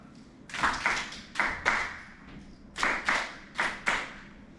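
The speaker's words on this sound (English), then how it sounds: "now we're gonna clap this pattern now" Hands clap a rhythmic pattern: groups of two and three sharp claps separated by short pauses, close and clear with no talking.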